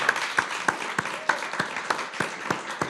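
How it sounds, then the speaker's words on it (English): A small audience at an English-language theatre book event in Berlin gives a round of applause, with sparse, distinct claps spaced through the moment, fairly quiet and unaccompanied by talk. "just one more round of applause for Emily, because this has been a joy"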